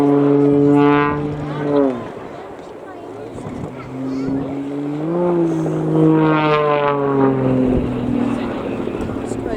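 A propeller aircraft performing aerobatics at the Cosford airshow, its engine droning and rising and falling in pitch as it maneuvers, loud and steady, while an announcer talks over it.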